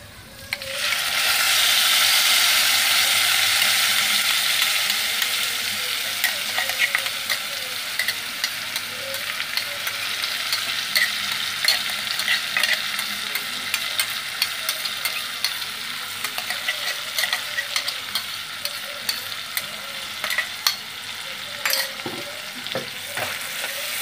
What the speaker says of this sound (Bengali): এবার এই মশলাটাকে আমি কষিয়ে নেব একটু